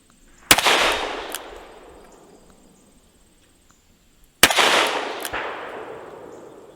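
Two loud gunshots from a Ruger GP100 revolver firing mild .357 Magnum loads. The reports are spaced about four seconds apart, and each sharp crack is followed by a long, fading echo. No one speaks.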